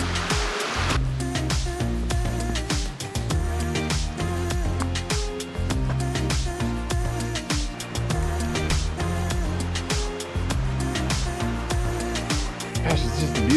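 Moose Creek flowing along a hiking trail, a steady broadband rush of water running continuously and fairly loud, with no talk.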